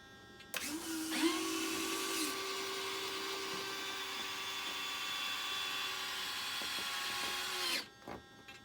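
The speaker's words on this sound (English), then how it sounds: "Let me get that gear back down." A model LX MiG-29 jet's electric landing gear lowering, a steady whining motor hum that starts abruptly, holds for about seven seconds, then cuts off with a faint clunk, close and alone.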